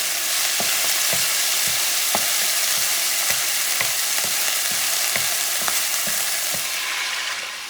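Homemade sazon mixture with annatto oil is stirred in a hot pan, producing a constant sizzle broken by regular scraping strokes of the spoon, close and loud.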